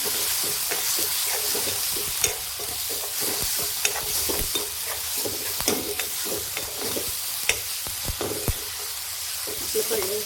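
Onions frying in a pan with onion-garlic masala, a steady close sizzle broken by frequent clicks and scrapes of a spoon stirring, continuous for about ten seconds with no talk.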